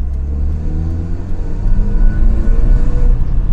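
A car engine with an electronic carburetor runs steadily at idle after an idle-speed adjustment, a close, loud low rumble with a smooth, even tone that swells slightly in the second half.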